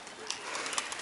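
Pigeons coo and rustle faintly at a distance in a city park on a warm day, soft brief calls over airy background hiss.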